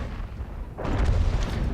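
An HE shell hits the rear of an M103 tank in World of Tanks, a sudden loud boom that breaks out of low rumbling and trails into a rough crackle.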